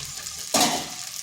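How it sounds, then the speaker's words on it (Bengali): Cauliflower florets drop into a pan of sautéed potatoes, setting off a sudden loud sizzle that swells and then slowly fades into a steady fry, with no voices. "আলুগুলো কষে নিয়েছি। এরপর এখানে দিচ্ছি ফুলকপি"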